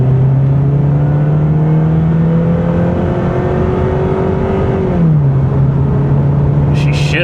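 A 2015 Ford Mustang EcoBoost engine drones loudly as it accelerates, its pitch climbing, then dropping at a gear shift and rising again, heard from inside the car.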